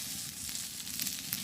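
Chilies and onion hit hot oil in a village cooking pan, giving a steady, loud, close sizzle that fills the short moment with no talking.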